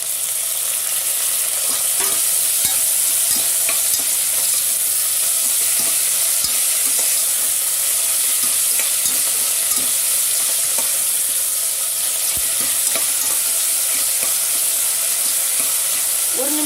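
Chopped onion and tomato sautéing in a pan for proso millet khichdi, a steady close sizzle broken by frequent scraping stirs and light clinks of the spoon, with no talking.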